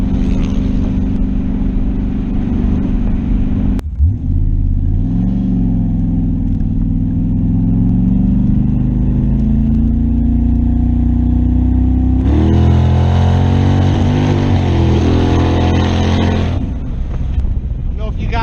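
A Chevrolet Camaro engine roars loudly under hard acceleration, then its note breaks up and stumbles with misfires at high revs, wind buffeting throughout and a voice speaking over it.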